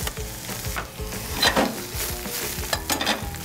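Food sizzling and crackling in a hot pan while being stir-fried with pineapple and chili peppers, with scraping and tossing sounds over steady frying.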